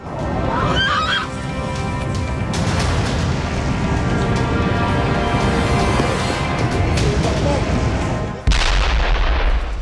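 Explosions at a Russian oil refinery after a drone attack: heavy booms and crackling blasts over a roaring fire-like din, loud and sustained, with a sharp, louder burst near the end.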